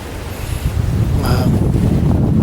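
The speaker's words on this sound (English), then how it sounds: "These winds have kicked up ridiculously strong." Strong wind gusting steadily outdoors during a West Virginia firearm deer hunting season, a continuous loud low rumble of wind noise buffeting the microphone, rising slightly and holding throughout with no talk.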